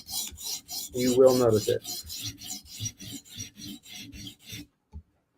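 A Lynch Titanium Shaman knife with an M4 steel blade is drawn across a sharpening stone in a quick run of short, close rasping strokes, with one heavier scrape early on. A voice speaks briefly near the start.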